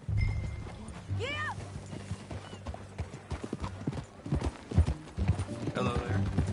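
Horse hooves clip-clop at a steady riding pace in Red Dead Redemption 2, with a brief whinny, light background music and people talking between the hoofbeats.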